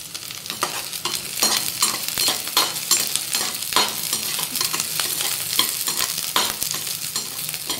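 Onions and green chillies sizzle steadily in a pan for gobi manchurian, with repeated scraping and stirring strokes over a constant crackle.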